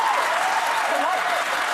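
A television talk show studio audience applauds in a dense, steady wash of clapping that holds at full volume throughout, with a voice faintly underneath.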